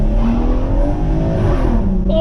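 A BMW M140i in Sport Plus mode pulls away hard from a standstill, its engine note rising loud and close under continuous tyre and road roar for a couple of seconds, with a voice mixed in.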